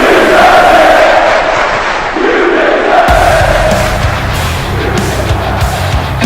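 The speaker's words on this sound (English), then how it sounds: "And as you hear the crowd" Loud arena crowd at a WrestleMania-style wrestling event roaring and cheering continuously, a dense wash of voices that shifts to heavier rumbling midway through.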